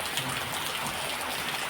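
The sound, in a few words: heavy rain falling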